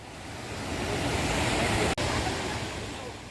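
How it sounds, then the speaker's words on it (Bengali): Mountain water runs down a hillside along a Sikkim roadside, a steady, loud rushing wash that fills the scene without pause, apart from one brief dropout. "পাহাড়ের গা বেয়ে নেমে আসা জল আর সেই ফ্রেশ সাউন্ড"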